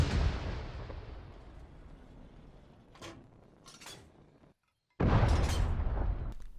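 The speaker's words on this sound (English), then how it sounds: "Next we have the PAK-38, a 50mm anti-tank gun." A PAK-38 50mm anti-tank gun fires twice in Arma 3. Each shot is a loud, deep boom with a long rumbling decay, and the second comes after a brief silence, with faint thuds heard between them.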